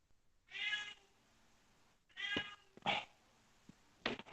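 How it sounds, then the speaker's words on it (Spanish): A cat meows three or four times, each call a drawn-out, close and fairly loud cry, with short quiet gaps between them and no talking. "Pero en un momentico le abro el gato."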